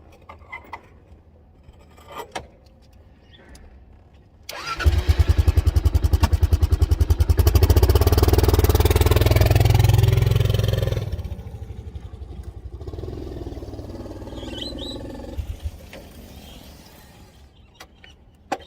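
A KLR650 motorcycle engine, fresh from an oil change, catches and runs loud and close for several seconds, a rough, steady idle that then drops away, leaving quieter rumbling and clatter.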